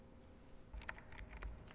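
Keyboard typing sound effects in the video game Void Stranger, a short burst of quiet clicky keystrokes starting partway in, faint over a low background hum.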